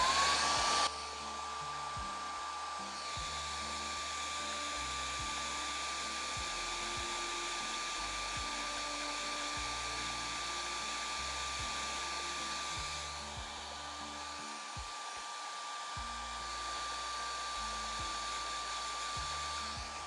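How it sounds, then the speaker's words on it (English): A hairdryer blows steadily and loudly onto a Space Wolves Dreadnought model, a continuous whining roar with a constant high tone, lasting throughout, with low knocks and shifts in the motor hum, nobody talking. "Quick hairdryer on there."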